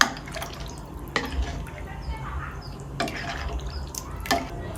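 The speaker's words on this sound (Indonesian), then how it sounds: "Langsung aja saya masukin cekernya yang udah direbus tadi dan juga bakso ya teman-teman." Boiled chicken feet and meatballs drop into a cooking pot of liquid, giving a few soft splashes and drips over a steady wet background with clinks of utensils; no talking is heard.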